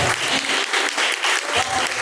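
Church congregation clapping in praise during a worship service, a dense, loud wash of many hands with a loosely rhythmic pulse that carries steadily throughout.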